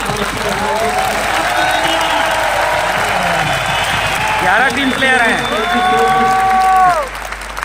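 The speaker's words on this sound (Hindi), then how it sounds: "मैं चाहूंगा आप टीम के लिए ताली बजा सकते हैं।" An audience clapping for a team at a company gathering, a broad steady applause bed heard under someone speaking loudly over a microphone, with some cheering voices rising near the end.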